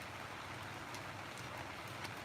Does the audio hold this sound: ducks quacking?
no